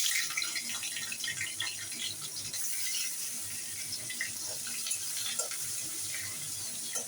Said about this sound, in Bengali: তেলে ভেজে নিচ্ছি।